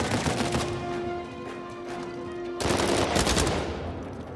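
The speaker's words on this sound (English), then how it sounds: "All sorts of guns coming out now." Sustained automatic gunfire from a firefight in the video game Uncharted 4, loud, rapid, dense bursts running throughout, with a steady tone beneath and a heavier surge of shots in the second half.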